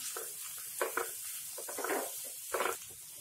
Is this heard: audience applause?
no